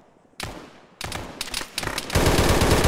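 Gunfire rings out in an Arma military game: a sharp onset followed by repeated loud bursts and rattling volleys that build into a dense, sustained barrage, with no talking.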